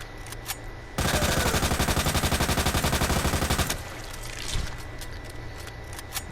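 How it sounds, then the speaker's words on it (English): Rapid automatic gunfire at an indoor shooting range with people present, a sustained dense burst of shots lasting a few seconds, fairly close and loud, then stopping abruptly with faint background noise after. "It's an actual shooting range with people."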